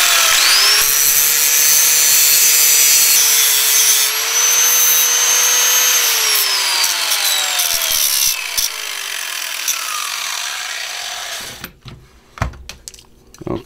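A power grinder deburring lead came for a stained glass metal frame, a loud steady rasping whine that rises and falls in pitch for about eleven seconds before cutting off into scattered clanks and handling noises.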